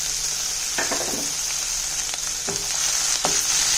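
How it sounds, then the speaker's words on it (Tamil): Garlic, ground thuthuvalai paste and green chilies fry in a pan with a dense, continuous hiss, close and fairly loud, with a few soft stirring knocks scattered through. "பூண்டு நல்லா வதங்கிட்டு இருக்குங்க. இப்போ இதோட நம்ம அரைச்ச அந்த தூதுவளை இதை சேர்த்துடலாம். பச்சை மிளகாயும்."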